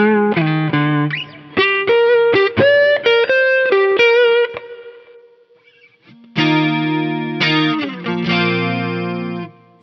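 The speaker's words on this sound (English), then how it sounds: "I end up using a lot of that chorus sound." An electric guitar runs through a Fractal FM9 preset with a chorus effect, giving a shimmering, slightly driven tone. It plays bright chord strums and melodic phrases, pauses briefly while a note fades, then resumes with fuller chords, with no talking.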